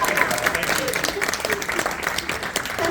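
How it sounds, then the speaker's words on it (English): An audience breaks into a sustained round of applause, dense and steady throughout, with a few voices mixed into the clapping. "He wants maybe a round of applause."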